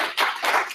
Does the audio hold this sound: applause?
yes